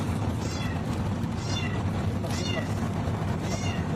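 A kitten meows four times at fairly even intervals, high and thin, over a steady low rumbling background.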